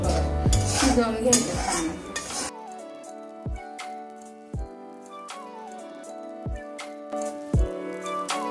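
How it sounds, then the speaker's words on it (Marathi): A spoon scrapes and stirs semolina sheera in a pan as it cooks down, giving close, repeated scraping strokes and clinks, first dense and then spaced out over soft background music. "हलवून हलवून असं सुक्क करायचं"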